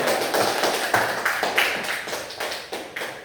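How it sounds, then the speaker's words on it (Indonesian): Group of students clapping hands in a classroom, a rhythmic run of roughly ten even, unison claps, close and fairly loud. "Kasih tepuk tangan untuk kelompok 3."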